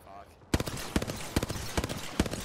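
Rainbow Six Siege gunfire: a run of sharp, punchy shots at an irregular pace of about two or three per second, close and loud over a busy in-game background.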